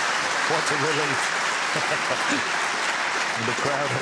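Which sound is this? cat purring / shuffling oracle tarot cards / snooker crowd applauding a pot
snooker crowd applauding a pot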